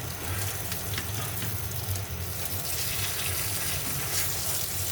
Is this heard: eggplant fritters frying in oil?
yes